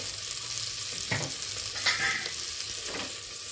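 Butter melting in a pan while making white sorghum popcorn gives a steady close sizzle with a few soft stirring scrapes, no voices over it.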